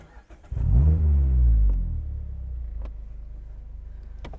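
A 2018 Mazda MX-5 Miata running an E85 tune starts up and revs hard, its engine note climbing loudly within a second, then settling into a steady, throbbing idle close by.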